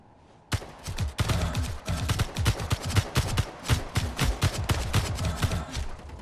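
Rapid bursts of gunfire in the space game Space Engineers, sharp repeated shots in fast clusters, loud and close, continuing almost without pause.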